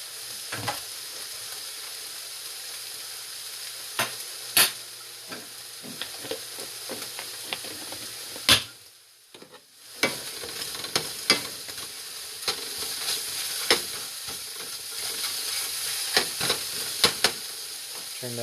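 Scallops frying in a pan keep up a continuous bright sizzle for a long stretch, broken by frequent clatters of stirring and utensil knocks, with one brief dip to near quiet midway before the hiss resumes.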